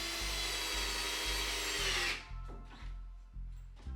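A power drill whirs as it drives pocket screws into a wooden cabinet frame, one long steady run followed by several short trigger bursts, close by with no talk.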